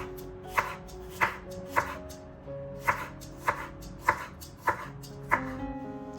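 A knife chops a white onion on a cutting board for potato salad, with about eight crisp, fairly evenly spaced thuds standing alone and close by, with no talking.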